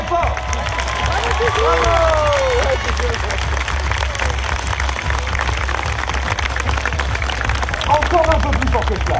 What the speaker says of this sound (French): je crois qu'on peut les applaudir bien fort